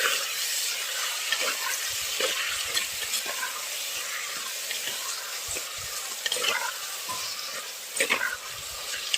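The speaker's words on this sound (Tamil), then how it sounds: "அப்புறம் கறி நல்லா மிக்ஸ் பண்ணிக்கலாம்." Chicken curry with tomato stirred in a hot pan, a continuous sizzle broken by irregular spoon scrapes and taps, close and fairly loud.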